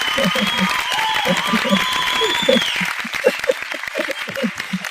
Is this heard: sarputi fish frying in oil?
no